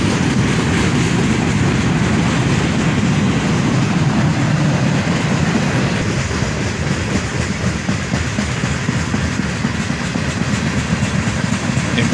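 A CSX freight train rolls past nearby with Conrail and CSX boxcars, producing a loud, unbroken roar with rhythmic wheel clatter over rail joints for the whole stretch.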